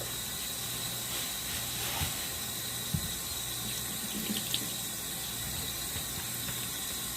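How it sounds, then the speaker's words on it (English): Water pours and splashes steadily as it is drained from a pot of salted, cured beef in a home kitchen, a constant sink-like rush with a few faint clinks and knocks. "make sure we drain all excess water out"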